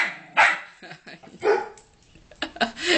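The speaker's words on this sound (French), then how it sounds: "Il y a même Indiana qui aboie." A dog barks close by in a few sharp, separate yaps, some of them rising into whining, over a quiet background.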